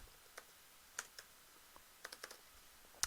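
Someone types on a computer keyboard in scattered, quiet keystrokes, a few isolated taps and then a quick burst of several, with no voices.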